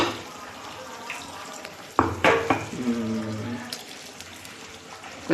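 Ground coconut paste is poured into a simmering eggplant curry: a soft background bubble, then a sudden splash and wet pouring slosh midway, with a brief tonal clink and a low voice murmuring nearby.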